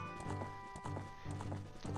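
Epona the horse in Zelda: Ocarina of Time gallops with rapid, rhythmic hoofbeats, close and steady, repeating clip-clop thuds with no talk over them.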